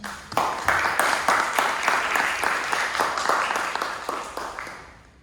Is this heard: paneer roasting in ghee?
no